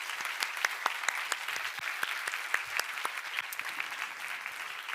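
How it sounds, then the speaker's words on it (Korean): A church congregation claps in encouragement, with dense, even applause from many hands that stays steady throughout. "우리 예찬이가 끝까지 돌파할 수 있도록 우리 격려의 박수 한번 하십시오"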